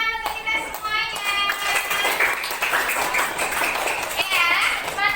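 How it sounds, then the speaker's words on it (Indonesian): Clapping from a classroom group of children during a teacher's lesson, rapid scattered claps running throughout, close and loud under lively children's voices and chatter. "Kasih tepuk tangan untuk kita semuanya."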